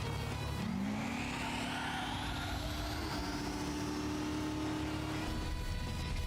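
A car with a turbocharger accelerates in the Trails Through Daybreak video game, its engine note climbing steadily in pitch over several seconds under continuous loud game noise, with no speech.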